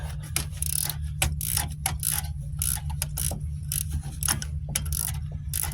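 Ratchet wrench clicking rapidly as it runs a bolt down on the rear hub bearing of a 2006 Dodge Grand Caravan, a close, continuous ratcheting chatter over a steady low hum, with no talk.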